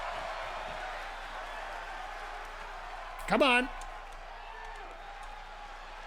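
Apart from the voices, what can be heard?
crowd cheering at wrestling entrance in WWE 2k24 video game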